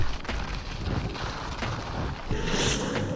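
Wind rushes steadily during a ski jump in a ski jumping video game, a loud continuous whoosh that swells slightly toward the end, with a few sharp thumps mixed in.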